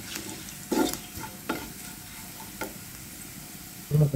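Cumin tempering for dal sizzles in a pan while a spoon stirs it, giving a few distinct scraping strokes over a soft, steady frying hiss.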